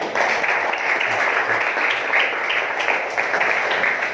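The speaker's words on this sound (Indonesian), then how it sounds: "Tepuk tangan dulu untuk Subhan" A school classroom applauds the student Subhan with steady, dense clapping throughout, loud and close, with voices faintly mixed in.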